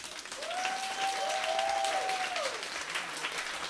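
Distant, fairly soft audience applause at a band's live concert, steady throughout, with a long whistle or whoop rising and falling above the clapping.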